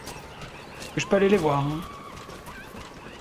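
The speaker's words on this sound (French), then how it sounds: "Là on a les ânes." A donkey brays briefly in the video game Metal Gear Solid V, a single harmonic honking call over steady ambient noise, with someone speaking quietly nearby.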